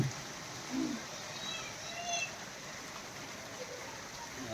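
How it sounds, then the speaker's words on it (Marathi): Rain falls outside a home in a steady, faint wash of hiss that continues throughout, with a few brief louder moments. "बाहेर पाऊस चालू आहे आता"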